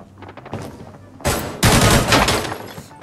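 Video game gunfire on a farmland map, loud close bursts of rapid shots crashing in after a few softer thuds, dense and overlapping for the latter half.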